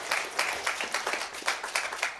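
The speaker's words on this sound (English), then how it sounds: "And if we can just give them a round of applause," Sparse clapping from a small group at a company all-hands meeting, recognising the event team; individual claps land in a loose rhythm at moderate distance, fairly quiet and without voices.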